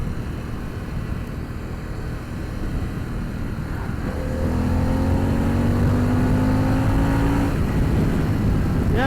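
Harley-Davidson Pan America 1250 Special motorcycle accelerating in sport mode, a steady engine drone that swells louder about halfway through, with the pitch climbing smoothly under sustained throttle.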